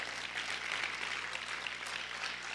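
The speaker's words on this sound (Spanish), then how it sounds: "aplaude fuerte al Señor" Dense, steady applause from a church congregation, a continuous patter of many hands clapping at moderate loudness without any talk over it.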